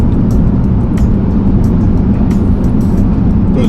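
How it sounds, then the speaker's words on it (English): Steady road and tyre roar from a 2008 Bentley Continental GTC convertible on big tyres while driving, a loud, continuous low rumble with no talk over it. "Big tyres on this car, so I do hear a bit of tyre noise"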